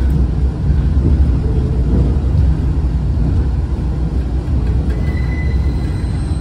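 A train on a regional railway line heads toward Léva, its loud, steady rumble filling the whole stretch, with a faint high squeal near the end.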